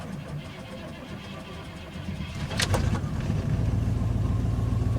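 A 1988 Chevy truck engine cold-starts after a brief cranking, then catches and settles into a louder steady idle rumble that continues close by.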